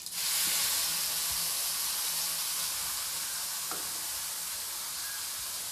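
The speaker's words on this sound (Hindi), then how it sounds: "अब मैं इस तेल के अंदर डाल दूँगी इसे। जब ये अच्छी तरीके से क्रैकल हो जाए" Ground spice paste for an urad dal vadi sabzi sizzles and crackles in hot oil, a dense, steady frying hiss that fills the whole stretch with a few sharper pops, close and loud with no talking.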